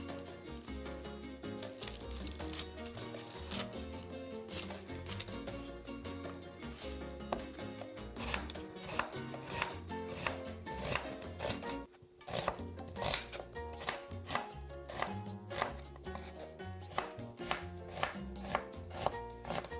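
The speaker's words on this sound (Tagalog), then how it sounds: "It's a medium size of onion, peel and chop as well." A knife chops a medium onion on a board in rapid, steady, close strikes that go on throughout, while music plays underneath.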